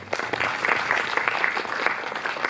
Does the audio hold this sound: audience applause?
yes